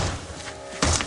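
A broad, noisy rumble ending in a single heavy, dull thump as a kick strikes a solid door reinforced with a Door Sentinel, with no voices.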